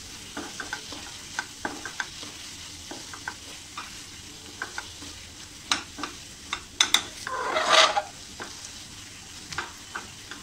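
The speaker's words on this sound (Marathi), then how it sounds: "आता आपल्याला हा मसाला छान असा परतून घ्यायचा आहे" Paneer masala spices with coriander powder being sautéed in oil, giving a steady soft sizzle broken by scattered spatula scrapes and taps, with a brief louder hissing burst near the middle; no one speaks.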